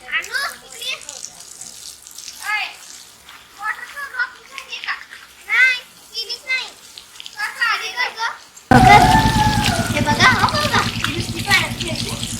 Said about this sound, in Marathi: बघा कशी खेळते पाण्यात